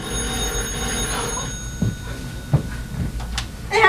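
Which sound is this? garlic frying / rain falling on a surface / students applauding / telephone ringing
telephone ringing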